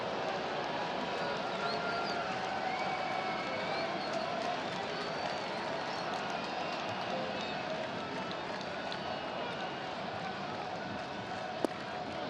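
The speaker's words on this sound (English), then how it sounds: "This is a much smaller crowd than last night" Steady roar of a baseball stadium crowd at a Yankees afternoon game against the Oakland Athletics, a continuous wash of many voices with footsteps and murmurs, and a single sharp crack near the end.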